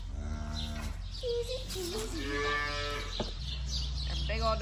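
Cattle and young calves moo on a farm during calving season, with a long deep moo followed by higher wavering calls from nearby animals over steady outdoor background noise.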